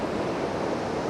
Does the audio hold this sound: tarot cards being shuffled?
no